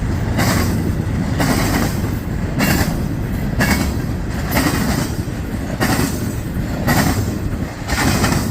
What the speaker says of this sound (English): So it's CSX, 2 locomotives. Looks like another intermodal heading eastbound. Looking across those diamonds.